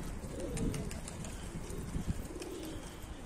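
Pigeons coo in low, soft repeated calls, close by and steady throughout, with a faint outdoor hum behind them and no voices.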